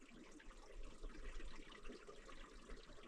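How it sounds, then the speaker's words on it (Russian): Hidden water runs beneath a boulder field on a mountain hiking route in the Altai, a faint, continuous distant rushing with no voices. "Тот момент, когда ты слышишь воду, но не видишь."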